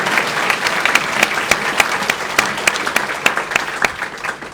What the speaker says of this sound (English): another round of applause, please, for the awardees